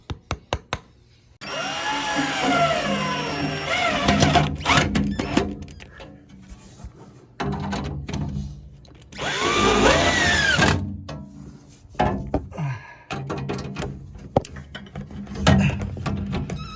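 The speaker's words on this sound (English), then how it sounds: "I can get through that tile because I got 3 more holes to drill" A power drill whines and grinds through hard tile in several long bursts while mounting a wall-hung sink, its motor pitch rising and falling, with brief pauses between.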